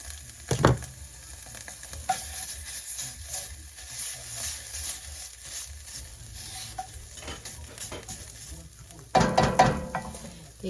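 Tomato paste sizzles and fries in a single pot, a steady faint crackle with a few louder clanks and stirring scrapes near the start and end.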